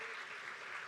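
Audience applause at a campaign launch event, a steady wash of clapping that fills the whole short stretch at moderate loudness with no voices over it.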